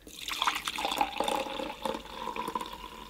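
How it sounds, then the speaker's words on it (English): Water is poured into a Tomy Minimatic toy washing machine, a close splashing, gurgling trickle with bubbly fluctuations that runs steadily for about three seconds. "And then we'll pour some water in."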